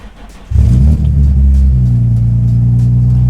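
An Infiniti G35 engine cranks and catches with a brief stumble, then settles into a loud, steady low idle rumble heard up close.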